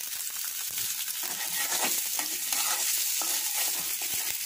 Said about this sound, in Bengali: এটাকে বাদামি করে ভেজে নেব